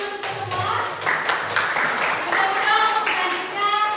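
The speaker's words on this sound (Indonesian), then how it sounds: "Terima kasih tepuk tangan untuk semua" Students in a classroom give a short burst of scattered clapping mixed with chatter and voices, the claps close and uneven rather than a full ovation.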